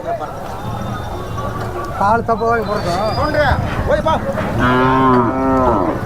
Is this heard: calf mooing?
yes